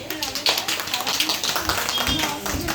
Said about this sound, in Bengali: ওর তোর জন্য একটু জোরে হাততালি।